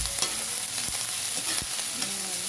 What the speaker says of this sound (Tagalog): Ating cabbage. Gigisahin muna natin yan hanggat maluluto siya.